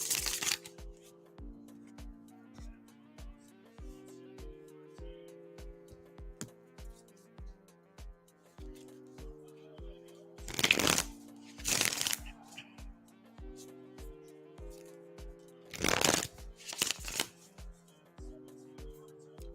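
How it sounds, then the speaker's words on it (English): Tarot cards being riffled and shuffled during a live reading, soft repeated crisp flutters with a few louder bursts, close and fairly quiet over a faint steady background tone. "shuffling for James now"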